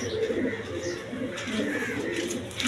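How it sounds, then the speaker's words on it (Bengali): Army pigeons, a male and female pair, cooing softly and repeatedly in a steady low murmur, with a little background noise throughout. "এগুলো হলো আর্মি কবুতর"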